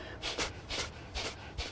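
Kapalbhati yoga breathing: four forceful, rhythmic nasal exhalations, close and evenly spaced, each a sharp snorting puff of air.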